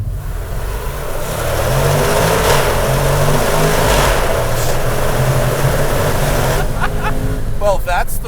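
A Jaguar F-Pace SVR, the 2022 model, heard from outside as its engine roars in a sustained, loud rev that holds steady for several seconds before easing off, with a few voices near the end.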